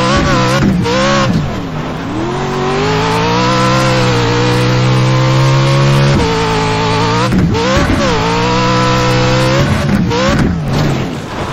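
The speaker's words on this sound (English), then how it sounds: "There's a car approaching." Engine of a Pro 4 racing truck in a VR racing game, a loud buzzing roar that rises and falls with shifts and revs while another car approaches, continuous with no talk.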